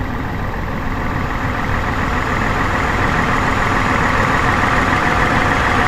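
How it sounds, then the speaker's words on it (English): Truck engine idling with a rattle, heard up close from inside the wheel well after an oil change, a loud, steady broadband drone with no talk. "It's not horrible, but it does rattle when it comes off the revs."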